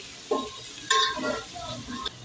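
Turmeric and coriander powder are stirred in a pan for a veg biryani, a metal spoon scraping a few times over a soft sizzle, close and brief.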